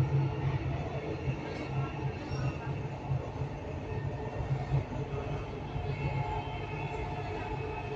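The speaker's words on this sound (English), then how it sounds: "Ito yung pabalik na sa Rashidiya Metro Station." Dubai Metro train running toward Rashidiya station, heard from inside the carriage as a steady low rumble and hum that holds evenly from start to finish, with no talk over it.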